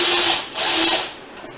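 Two short whirring bursts of a power driver running bolts and screws into a 2019 Harley-Davidson Road Glide Special during a gauge install, close and fairly loud, then quiet.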